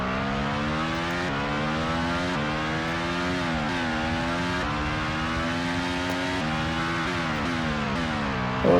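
Car engine in an FX racing video game, revving steadily with harmonic tones that climb and drop at each gear change, loud and continuous with no talking.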